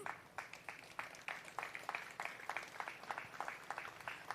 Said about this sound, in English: they really do deserve the applause